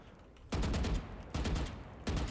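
Short bursts of gunfire from a video game weapon, three loud clusters of rapid shots separated by brief pauses, with no talking.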